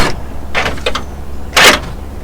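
Several quick mechanical clunks and clicks, a short cluster near the start and a louder snap later, as a Mitsubishi Montero's power door locks actuate.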